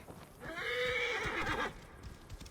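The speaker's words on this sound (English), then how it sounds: "I hate that stupid horse and the noise it makes." A horse in a video game lets out one long, loud whinny with a rising-then-falling tone, over faint hoof clatter and background game ambience.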